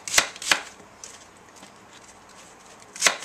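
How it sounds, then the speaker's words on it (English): Three sharp knife chops on a cutting board while vegetables are diced during an Ethiopian cooking lesson: two quick close strikes, a pause, then a third, with faint softer taps between. "And just cut it like that and put it in."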